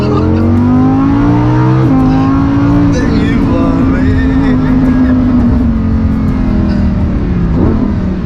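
A Lamborghini Huracan sports car's engine, a loud close droning rumble with rising and falling revs and gear-shift dips throughout, while people talk over it.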